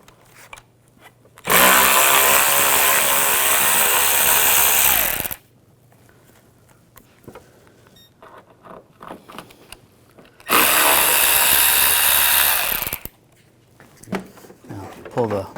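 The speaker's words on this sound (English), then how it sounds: "We're going to use a T25 socket. Take these screws out." Loud power tool with a T25 socket driving out the two lower headlight screws on a 2006-2010 BMW 550i, two sustained whirring bursts separated by quieter handling noises and speech.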